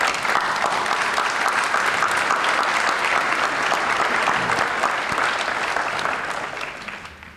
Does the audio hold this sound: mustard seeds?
no